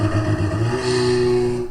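Turbocharged Ferrari Pista engine revving at a drag strip launch, a loud, close, steady drone that shifts pitch partway through, heard alone without any talk.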